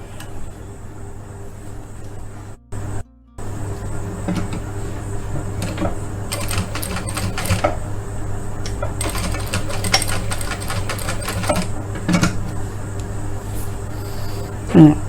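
A sewing machine stitches a blouse with a continuous mechanical whir and rapid clicking bursts. A short pause breaks it early, then it runs on steadily at moderate volume.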